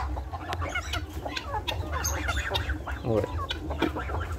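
A newly hatched duckling peeps in a backyard, giving high chirps in quick irregular bursts close by, mixed with a few lower clucking calls while a person says a word.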